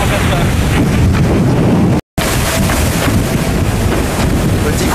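Strong wind of 25 to 30 knots buffets the microphone aboard the racing trimaran Spindrift 2 at sea, a loud continuous roar with rushing water and a brief dropout midway.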